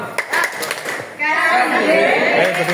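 A group at a KKA training session in Mojokerto does the "tepuk wow" clapping routine, with a short burst of rhythmic group claps, then voices joining in a drawn-out chanted cheer.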